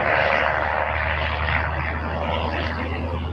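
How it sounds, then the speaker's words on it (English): An Airbus A300 jet at UPS Worldport in Louisville makes a steady, loud engine roar with a deep low rumble, heard outdoors at the airport with no talking. "Airbus A300."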